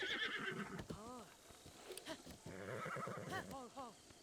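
A horse in the video game Zelda: Breath of the Wild gives repeated whinnies and neighs over a clip-clop of hooves, with someone talking over parts of it.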